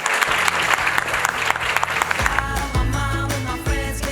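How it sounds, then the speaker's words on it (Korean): Audience applause at the 2020 KWC award ceremony, a steady roomful of clapping that swells into bright, dense applause while music with a low bass line plays underneath. "여러분들 박수와 함께 시작을 열어주십시오."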